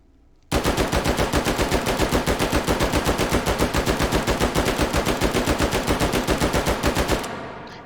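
A Heckler & Koch G11 caseless rifle fires on full automatic in one long, continuous burst of rapid, evenly spaced shots lasting about seven seconds, loud and close, then cuts off abruptly with no talking.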